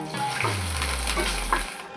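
Fresh grated coconut drops into hot oil in a pan and sizzles with a steady, close frying hiss. A low tonal hum slides downward beneath the sizzle.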